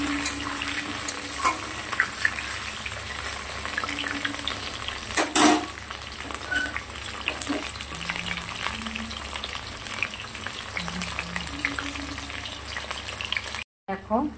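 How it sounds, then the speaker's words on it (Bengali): Potato pieces frying in hot oil in a home kitchen, a steady broadband sizzle with occasional stirring scrapes, close and continuous, briefly interrupted near the end. "আলুগুলো একটু লাল লাল করে বেশ ভেজে নেব।"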